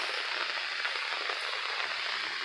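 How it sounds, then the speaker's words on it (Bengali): Rain falls steadily on a rainy day with thunder and lightning around, a soft even patter on surfaces and water, moderately quiet and continuous with no voices. "বৃষ্টির শব্দ অবশ্যই শোনা যাচ্ছে"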